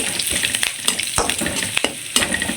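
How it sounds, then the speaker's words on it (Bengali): Boiled pasta fries in hot oil, giving a continuous close sizzle broken by sharp stirring scrapes and clicks in quick succession. "পাস্তা ভাপ দেওয়া নেওয়া হয়ে গেছে, এখন আমি তেলে ফেলাবো।"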